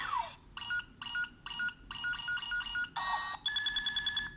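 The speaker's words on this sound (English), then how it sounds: "That's the targeting sound." An Engine Sentai Go-Onger DX Wing Trigger toy gun's electronic targeting noise: a descending zap followed by repeated chirping beep bursts and a final rapid pulsing tone, close and alone.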